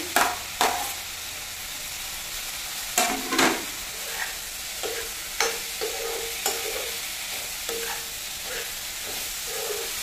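Brinjal and potato frying in a fish curry paste in a pan: a steady low sizzle broken by sharp, irregular clanks and scrapes of a spoon stirring, close and fairly loud, with no talk.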